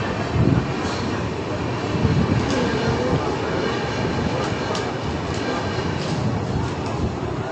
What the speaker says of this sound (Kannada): KSR Bengaluru Shivamogga town Jan Shatabdi express.